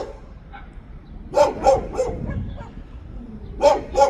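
Stray dogs near the pyramids of Giza, Egypt, bark loudly in short clustered bursts, pausing between volleys before more sharp barks.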